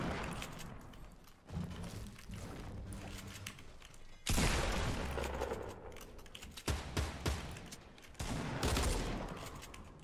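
Drive-by gunfire in Fortnite, a fairly quiet mix of scattered shots and booming bursts over game noise, with several louder volleys toward the middle and end.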